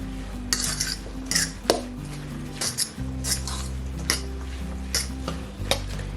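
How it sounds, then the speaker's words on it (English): A utensil clatters and scrapes around a bowl while mixing salt-fish fritter batter, in quick irregular clinks over a low steady background hum. "All right, gonna mix this in very well."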